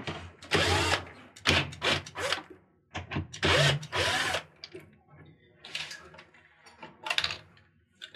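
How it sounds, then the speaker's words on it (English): A power drill spins out three 5/16 screws holding the water pump on an Amana washer, heard as several close, loud whirring bursts separated by short pauses, with fainter mechanical rattles toward the end. "there's 3 5/16 screws. I'm going to remove them, and then it will allow me to drop the pump."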